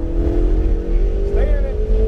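A Ferrari 488 GTB accelerating on a race track, a loud, close engine note climbing in pitch, with a voice heard over it.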